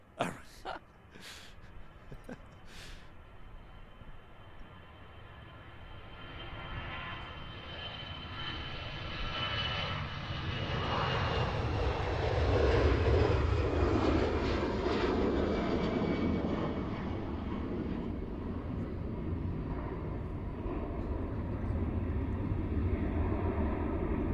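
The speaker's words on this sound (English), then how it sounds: "There she goes, the A320." A Pegasus Airbus A320 airliner departs Manchester Airport, its engine roar building from a distant rumble to a loud sustained swell that peaks midway and then holds, with a few sharp knocks at the start.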